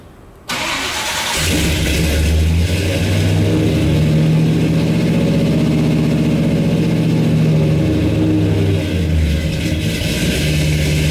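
A Ford 390 V8 in a High Boy truck, fitted with Sniper 2 EFI, cranks briefly and catches, then settles into a loud, steady, rumbling idle that rises slightly with throttle before easing off near the end.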